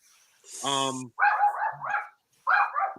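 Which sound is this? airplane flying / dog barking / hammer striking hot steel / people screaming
dog barking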